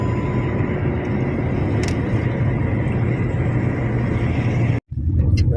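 A car drives at night from Madurai toward Nagapattinam and Velankanni, a constant low road rumble and engine hum from inside, broken by a brief dropout near the end.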